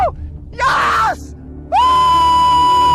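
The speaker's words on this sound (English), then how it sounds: "Now I was screaming like crazy because I know this fish is going to be the catch of my lifetime." A man on a boat on a freshwater river screams with excitement after catching a giant catfish, in two loud, close bursts: a short yell and then a long, sustained howl.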